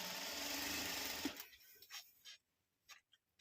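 A domestic straight-stitch sewing machine stitching a narrow folded hem runs steadily for just over a second, then a few short clicks and mechanical taps follow with quiet gaps between them, close by with no talking.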